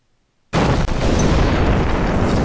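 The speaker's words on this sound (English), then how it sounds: "And they're dropping their bombs." Bombs dropped on an airfield runway explode in a military simulation game, one sudden loud blast at the start followed by a sustained roaring rumble.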